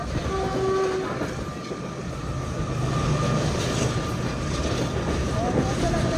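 Tezgam passenger train running past a railway station on the Nawabshah to Karachi line, a steady loud rumble and wheel clatter throughout with a horn tone near the start.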